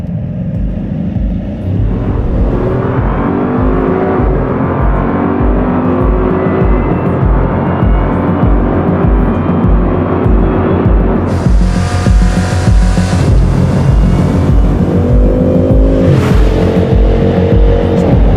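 Bugatti Chiron in top-speed mode accelerating toward 420 km/h, its engine a loud, sustained roar that climbs through the gears with shifts and a rising pitch, and heavy wind and road noise, with no voices.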